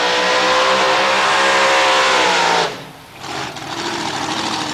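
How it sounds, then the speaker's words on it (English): Victor Bray's 1957 Chevy drag racing car roars at high revs with a loud, harsh, sustained engine note, then cuts off abruptly before a lighter mechanical rumble returns. "Farmer Vic's 57 Chevy has terrorised Australian drag strips for over a decade."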